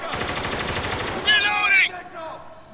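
Heavy machine gun fire in the video game Spec Ops: The Line, a dense, rapid rattle of shots up close that breaks off as a shouted voice cuts in, then fades into a quieter tail.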